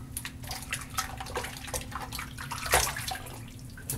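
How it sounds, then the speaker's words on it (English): Running water splashes and trickles over hands being rinsed under a tap after shaving, a soft, continuous wet patter with a few louder splashes, fairly close and with no talking. "Rinse my hands off real quick."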